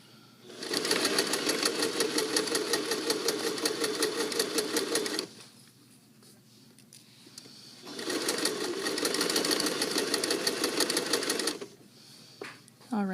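A sewing machine stitches a basic seam in two steady runs of rapid, buzzing needle strokes, each lasting several seconds, with a quiet pause between them.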